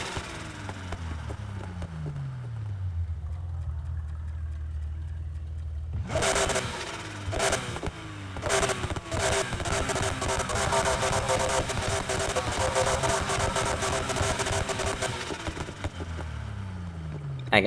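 A Porsche engine in the video game Need for Speed Heat drones low and steady, then revs hard with sharp throttle blips and crackling exhaust pops, staying loud and close throughout.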